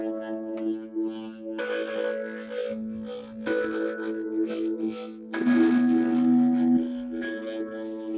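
The main lead melody of a dark beat plays steadily, sustained tonal lines shifting pitch over a busy, textured backdrop with no voices.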